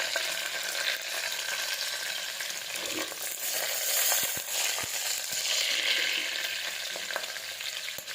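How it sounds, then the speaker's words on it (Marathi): Green chili and crushed garlic fry in hot oil for moong dal khichdi, giving a steady, close sizzle with a few stirring clicks and scrapes and no voices. "लसण थोडासा लालसर झाला ना त्याच्यामध्ये हिरवी मिरची टाकायची"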